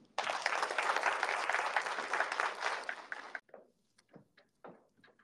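An audience at a graduation ceremony welcoming a speaker with a burst of sustained applause that lasts about three seconds, then trails off into a few scattered claps and light knocks.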